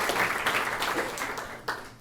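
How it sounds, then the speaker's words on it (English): An audience at a Chautauqua Men's Club interview event applauding, a brief, dense patter of many hands clapping together that fades slightly before one last sharp clap. "Dowds, who are the camp counselors here, let's give them a round of applause, and Methodist House"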